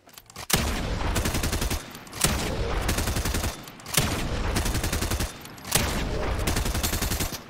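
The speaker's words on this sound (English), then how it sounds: "From 10 meters out, white shotgun to the chest, blue SMG to finish." Fortnite gunfire from a white shotgun and a blue SMG at about 10 meters: four loud bursts, each opening with a sharp crack and running into sustained rapid fire, with short gaps between them.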